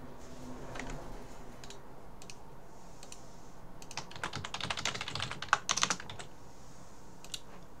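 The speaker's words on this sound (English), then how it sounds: "That's me, you know, face planting against the keyboard to get the stream out." A face planted onto a computer keyboard makes a dense, faint burst of key clatter among scattered lighter clicks and taps.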